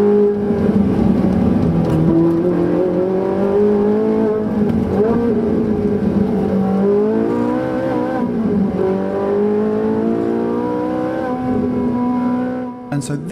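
A Ferrari 458 Italia on the road accelerates hard out of a corner and up through the gears, its loud engine note rising and dropping with each shift, sustained and close throughout.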